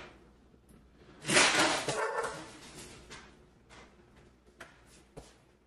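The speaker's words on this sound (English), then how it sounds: "both the dogs are wrestling. That's why it's so noisy." Two dogs wrestle in an adjoining room, giving off a loud burst of barks and growls, then scattered yips and thumps that trail off into quieter scuffling, heard from a short distance.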